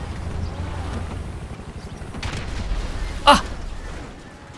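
An explosion in the online game GTA Online bursts briefly and loudly over a steady rumbling background, and a voice gives a short exclamation.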